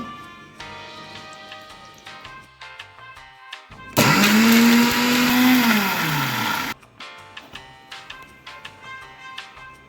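A blender whirs loudly for about three seconds, grinding boiled eggs and oil into a thick mayonnaise, its motor pitch dropping as the mixture thickens, with quiet clinks and kitchen sounds before and after.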